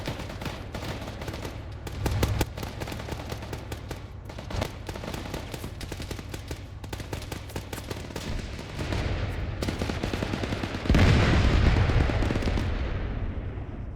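Rapid bursts of gunfire and heavy grenade blasts fill a video game firefight, dense crackling shots throughout with louder booming explosions near the middle and end fading into a rumbling tail.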